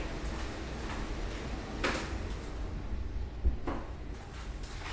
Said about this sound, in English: let me close my door because my air is running